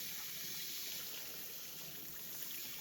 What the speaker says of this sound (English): Rinse the chicken under running water.